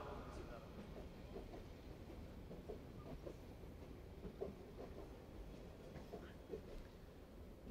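A passing train rumbles steadily with a faint rhythmic clickety-clack of wheels on rail joints, heard at moderate distance with a voice faintly underneath.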